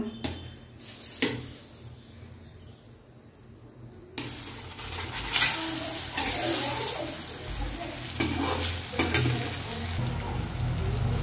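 Raw banana kofta balls go into hot oil, a broad loud hiss that swells after a quieter start, with bursts of bubbling and splatter over faint background noise.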